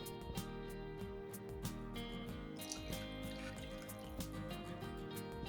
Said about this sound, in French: Je remplis le pot avec le lait